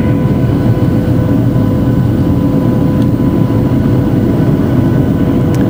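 Airplane engines drone loudly and steadily from inside the cabin during approach and landing at Weno in Chuuk, Micronesia, a dense low rumble with no break.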